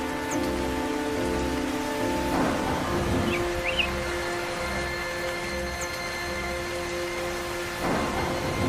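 Steady rain falls in a cartoon with a continuous hiss, a faint rumble of thunder behind it, and a sustained musical tone running alongside.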